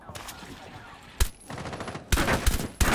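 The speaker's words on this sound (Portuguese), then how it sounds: "Tiro da Ashe" Gunfire from Ashe's rifle in Rainbow Six Siege ranked play, bursts of sharp rapid shots with loud cracks near the middle and end, distant-sounding volleys in between.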